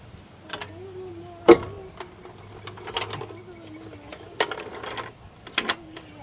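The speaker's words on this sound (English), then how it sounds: "I'm going to go ahead and release the jack." A car jack being released under a 2013 Dodge Grand Caravan during a front strut replacement, giving a run of close mechanical ratcheting clicks and metallic clanks, with one sharp knock early on, over a low hum.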